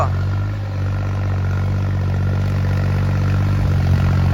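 A farm tractor's diesel engine runs steadily at idle, a loud, constant low drone with an even throb throughout.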